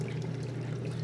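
Water pours steadily out of the tub of a 1934 Maytag wringer washing machine, a continuous close, low gurgling flow with no voices.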